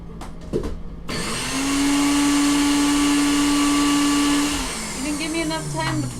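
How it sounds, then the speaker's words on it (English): A blender whirs loudly while making coffee, rising to a steady high-pitched drone that holds for several seconds, then dips and wavers as the load shifts, with a few brief clicks at the start. "Even if I use the blender."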